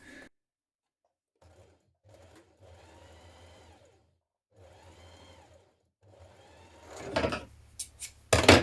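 A sewing machine stitches down the sides of cuff pieces for a McCall's Aiden sweatshirt. Several short runs of stitching are separated by pauses, and a louder clattering run near the end is followed by handling clunks.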